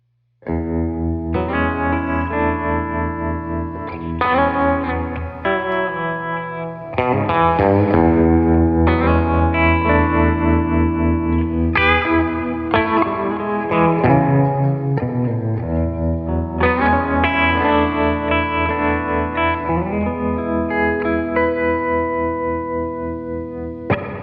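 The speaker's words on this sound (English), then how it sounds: "Next, let's check out the Tre-Verb pedal." Electric guitar played through a Fender Tre-Verb tremolo and reverb pedal, a sequence of strummed chords and picked notes with pulsing tremolo and washy reverb tails, loud and close with no talking.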